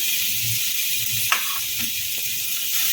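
Chopped green chillies hitting hot oil in a pan for Dhaba-style Punjabi rajma, a steady bright sizzle and hiss throughout with a few faint clinks of a spoon against the pan.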